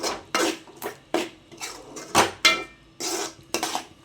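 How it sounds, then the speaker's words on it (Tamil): A spoon or spatula clatters against a pan in about ten separate bursts while prawn varuval is mixed with a coconut-fennel paste, the metallic scrapes loud and close. "சேர்த்து நல்லா கலந்துக்கலாம்"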